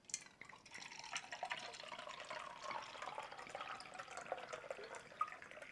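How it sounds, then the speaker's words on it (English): Kangen micro-clustered water pours steadily into a glass holding a little tea, a continuous splashing, gurgling fill lasting several seconds with no talking. "Watch what happens when we add the Kangen micro-clustered water."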